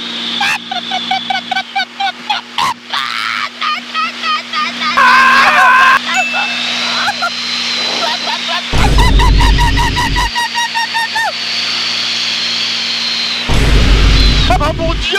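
A person imitates a hen clucking, loud repeated squawking and honking calls over the steady drone of an aerobatic plane cabin at high speed, with excited voices and bursts of wind noise.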